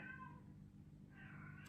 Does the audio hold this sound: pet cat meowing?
yes